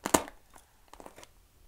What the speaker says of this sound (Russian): если я его сейчас вспорю, этот пакет, оно как-то должно надуться